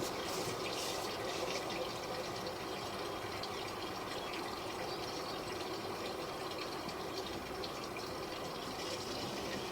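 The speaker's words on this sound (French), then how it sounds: "Vous pouvez en tirer encore une de chasse?" Hallway toilet being flushed, a steady loud rush of water filling and gurgling continuously throughout at close range.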